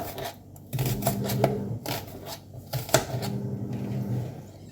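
Onion being chopped with a knife on a board for a Jamaican gully bean dish with garlic and Scotch bonnet pepper, heard as a quick run of close, crisp chops in uneven bursts with short pauses.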